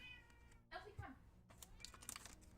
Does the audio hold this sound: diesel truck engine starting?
no